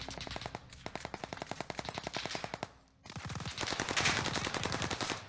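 Rapid automatic gunfire crackles in a battle royale match on the Caldera map, sustained bursts close by with a brief pause around the three-second mark before a denser, louder volley resumes.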